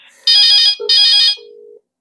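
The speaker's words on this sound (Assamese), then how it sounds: "ফোন আহি আছে" An electronic phone ringtone sounds in two loud, warbling bursts, followed by a short single steady beep, then silence.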